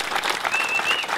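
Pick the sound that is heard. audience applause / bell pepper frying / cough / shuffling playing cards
audience applause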